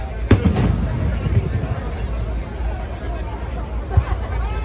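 Fireworks at a marina show pop and crack in scattered bursts at a distance, heard beneath a continuous murmur of crowd chatter and nearby voices.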